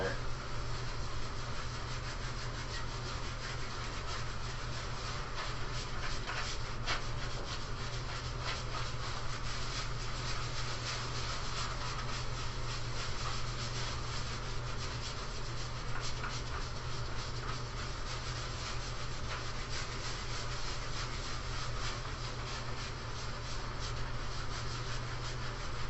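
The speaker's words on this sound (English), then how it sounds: "So you're really gonna like scrub this stuff on." A brush scrubs gesso onto a canvas with a continuous, quiet rubbing that stays steady and even throughout.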